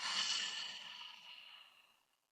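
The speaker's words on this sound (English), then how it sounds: "And then just open up your mouth and exhale, let it all the way out." Long, steady exhale through an open mouth during a yoga breathwork exercise, a soft airy breath that starts fairly strong and tapers to silence over about two seconds, close and quiet with no talking.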